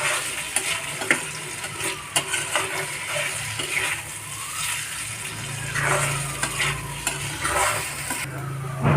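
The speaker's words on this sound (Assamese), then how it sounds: "ভালদৰে মিক্স কৰি লৈছোঁ।" Finger-shaped wheat flour dough pieces being stirred in a hot pan, with repeated scraping and clinking of a spatula over light frying sizzle, close and fairly loud.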